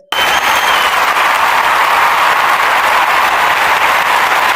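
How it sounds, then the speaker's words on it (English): Loud, sustained round of applause from an audience at a teaching license achievement ceremony for college alumni, starting abruptly and holding steady and dense throughout. "A big round of applause"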